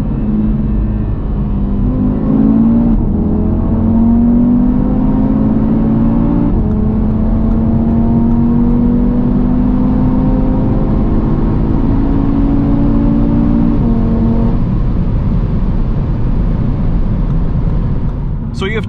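An Audi TT RS accelerating hard from 100 to 200 km/h, its engine note climbing steadily through the gears with brief dips at each shift, loud and close throughout with a constant rumble underneath.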